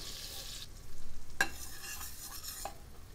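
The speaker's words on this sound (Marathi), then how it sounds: "बटर वितळल्यावर 1 छोटा चमचा जिरे घालूया" Cumin seeds crackle in melted butter in a pan for pav bhaji, a quiet sizzle with a couple of sharp scraping clicks of a spoon stirring, close by and with no talking.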